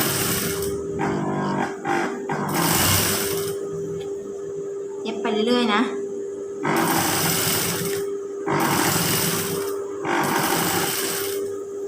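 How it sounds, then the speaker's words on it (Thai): A sewing machine stitches a concealed zipper onto striped fabric in several loud bursts of rapid whirring, separated by pauses and a brief clattering adjustment, with someone speaking between runs. "เย็บไปเรื่อยๆค่ะ"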